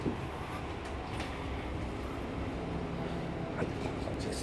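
Diesel railcar KiHa 40 of a one-man service standing at Kogushi station on the San'in Main Line, giving a steady low idling rumble with faint station ambience throughout.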